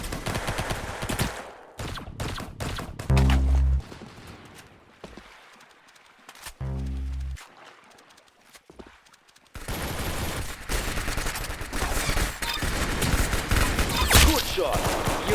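Shooter video game gunfire comes in rapid bursts and clusters of shots, with quiet gaps between and a dense stretch of firing toward the end.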